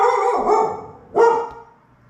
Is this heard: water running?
no